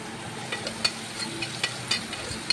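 Cut carrot pieces are stirred in a sambar pan, giving a steady soft sizzle with scattered light scraping and clicking taps of a spoon against the pan.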